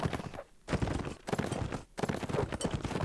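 Horse hooves clip-clop in a video game's battle, a steady stream of dense hoofbeats with brief pauses, loud and close amid busy game noise.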